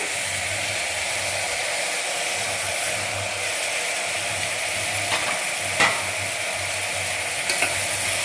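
Chopped tomato sautés with browned onions in a pan for beetroot salna, a steady close sizzling hiss with a few faint stirring scrapes, no voices.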